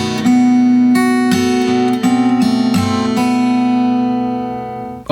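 An acoustic guitar plays the second line of a song in a fingerstyle arrangement, with plucked notes and chords in a steady pattern over a sustained bass note, ringing clearly up close before fading out.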